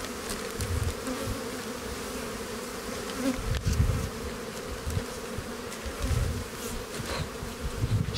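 Honeybees buzz at an opened beehive, a continuous dense hum that swells and fades as individual bees fly close past, with no talking.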